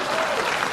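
Audience applause, a steady wash of many hands clapping at moderate level, with no pauses and no voices over it.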